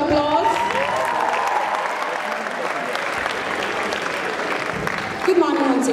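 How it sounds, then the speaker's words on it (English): An audience at a junior debate competition breaks into a sustained round of applause, dense and even clapping filling the room for the full six seconds. "Just motivate them with big round of applause."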